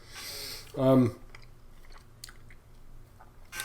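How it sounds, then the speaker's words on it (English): Someone chews food from a 2022 Mongolian Army 24-hour ration, with soft, wet crunches and mouth noises near the mic, a short voiced sound in the middle, and quieter chewing afterward. "eating with my mouth full here, but chewing, speaking with my mouth full"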